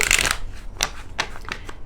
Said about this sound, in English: I'm going to shuffle the cards until I'm guided to stop